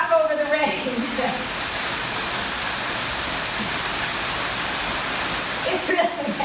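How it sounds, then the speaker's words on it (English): Steady rain falls during a home floor workout, a constant broad hiss with a voice talking over it at the start and end. "I'm going to have to talk over the rain."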